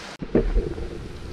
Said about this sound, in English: It's damp out and it's raining.